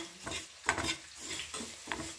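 Whole spices dry-roasting in a pan for an amla and green chilli pickle, with a few soft scraping stirs and light rattles spaced out over a quiet background and no talking.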